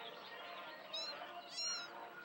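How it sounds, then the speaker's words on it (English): A cat meows twice in a video game while hunting birds, two short high calls standing out over a faint, soft ambient background. "Look at Miss Cat hunting the birds."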